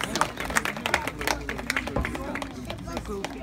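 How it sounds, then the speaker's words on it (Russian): Wedding guests clapping at a cake-sharing moment, scattered claps and chatter mixed with voices and movement nearby, moderately loud throughout. "Под бурные аплодисменты ваших близких."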